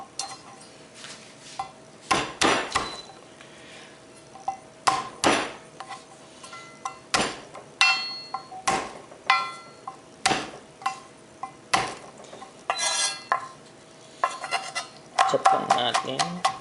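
Garlic cloves chopped on a cutting board, a series of sharp knife knocks at irregular intervals, some in quick clusters, close and distinct.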